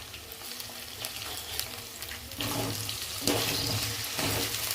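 Chopped tomatoes and onions with green chillies frying in a pan for a simple chicken curry, a steady close sizzle that grows louder partway through, with a watery hiss and no talking.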